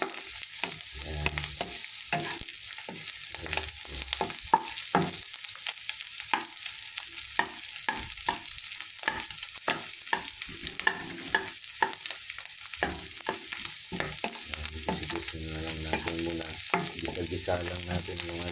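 Ground meat sautés with garlic and onion in a pan, a steady sizzle of frying broken by repeated scrapes and knocks of stirring, close and continuous throughout.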